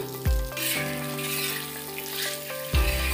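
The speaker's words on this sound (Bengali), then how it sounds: "বাদামটা ভালো করে ভেজে" Peanuts frying in hot oil in a home kitchen, a steady bright sizzle with a few heavier thumps and clatters as the pan or spoon is moved.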